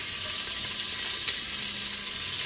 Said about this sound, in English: Once I sear them, I'll take them out